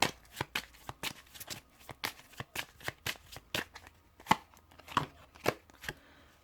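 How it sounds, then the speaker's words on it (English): Tarot cards are handled and drawn from a deck, a close series of quick, crisp card flicks and riffles in an irregular rhythm, fairly soft. "I'm going to pull this 2 cards off the top of the cards here"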